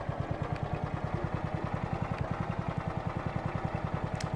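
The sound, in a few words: tractor engine in Forestry 2017 video game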